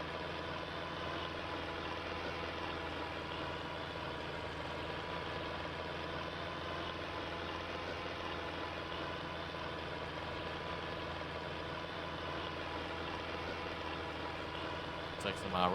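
A cabless tractor engine idles in the Farming Simulator 22 video game, a steady, unbroken low drone holding at one level throughout with no revving.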